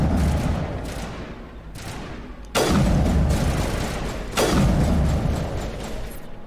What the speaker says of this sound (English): I shoot now.